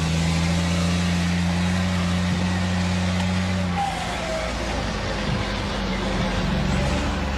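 A blue truck's engine drones loudly and steadily while being revved, its low pitch shifting down partway through and then holding at a rough, lower idle.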